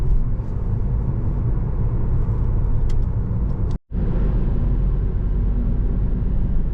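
A car drives along a narrow road through small towns on the Greek island of Corfu, with a steady, loud engine and road rumble throughout that cuts out for a split second partway through, with no voices.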